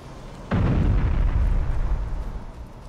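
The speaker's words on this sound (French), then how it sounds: "s'il faut envoyer des grenades, j'envoie des grenades" A grenade blast in the game Aliens: Colonial Marines bursts suddenly with a heavy, close boom, then rumbles on loudly for about two seconds before easing off slightly, with no voices.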